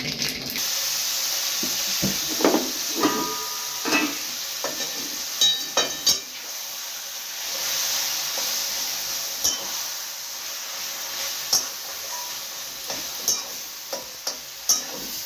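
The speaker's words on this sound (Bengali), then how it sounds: "দিন দেবো শুকনো লঙ্কা আর সর্ষে ফোড়ন দেবো তেজপাতাও দেবো" Dry red chilli, mustard seeds and bay leaf tempering in hot oil, a steady frying hiss with sporadic crackles and pops and a few clinks of stirring, close by, with no talking.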